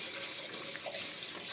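Water poured into a pot of chicken thokku as it cooks: a steady, close splashing stream, like water running from a tap, lasting the whole moment with no voices.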